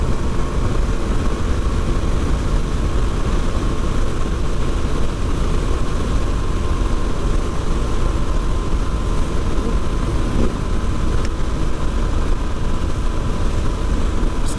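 Yamaha XT250 motorcycle cruising downhill on cruise control, giving a steady, continuous engine drone with wind rush that holds loud and even throughout, with no speech.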